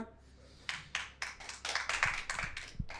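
Stand-up comedy audience applauding in a club, a burst of dense clapping starting abruptly and swelling over a few seconds, fairly close and loud, with no talk over it.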